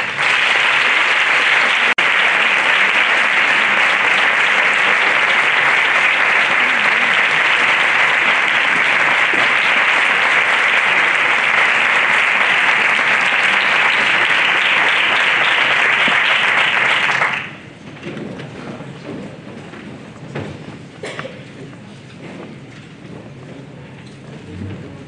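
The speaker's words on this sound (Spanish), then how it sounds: "Recibamos, señores, con un fuerte aplauso a la Banda Sinfónica Municipal de Dos Torres" A concert audience gives loud, sustained applause for the Banda Sinfónica Municipal de Dos Torres at a Holy Week band concert in Peñarroya-Pueblonuevo, Córdoba, a dense wash of clapping that stops abruptly after about seventeen seconds, leaving quiet room noise.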